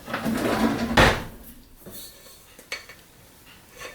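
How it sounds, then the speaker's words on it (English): A spatula being pulled from a kitchen drawer while making gluten-free honey cookies: a rattling clatter of utensils and a drawer slide, a sharp clank around one second, then a few quieter knocks. "let me get a spatula so I can show you the consistency."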